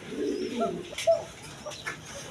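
Large pigeons kept for sale cooing in soft, low, repeated calls close by, with a few sharper chirps and light rustling between them.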